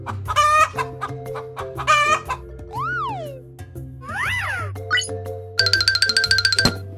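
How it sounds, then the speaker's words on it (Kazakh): A chicken clucks in two loud bursts, then a rooster crows, followed by a run of playful cartoon-style whoops, chimes and jingling sound effects. "Тауық,"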